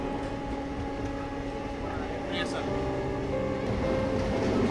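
Passenger train hauled by a WAG-9 electric locomotive running fast along the dedicated freight corridor track past Dadri station, a steady broadband rumble of wheels and rail that swells slightly toward the end.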